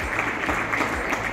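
A crowd at a local event in Giridih applauds continuously, with dense, even clapping from many hands at close range.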